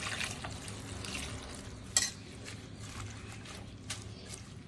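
Dal, gongura and water are stirred together inside a pressure cooker, making faint, steady swishing and scraping with one sharper metallic knock partway through.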